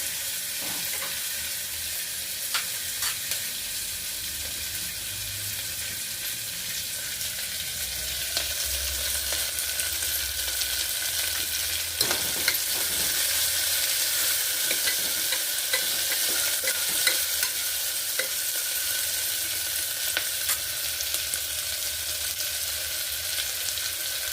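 Onion sizzling in a pan while being stirred during cooking of tomato bath, a steady soft frying hiss with occasional scraping stirs, close and alone without talk.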